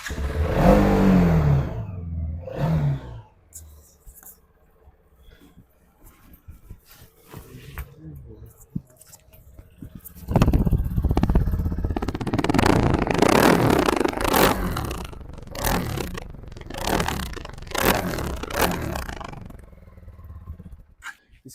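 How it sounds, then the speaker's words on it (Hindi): A TVS Apache RTX 300 motorcycle fires up and revs, its exhaust rising and falling in loud repeated throttle blips close by, with a quieter idle stretch between bursts and no speech over it. "अभी इसका फायरिंग का जो साउंड है वो सुनाता हूँ आपको मैं। Exhaust sound."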